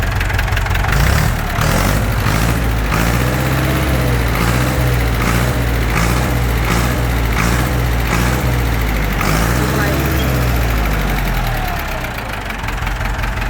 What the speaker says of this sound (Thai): เร่งเครื่องเร่งเครื่อง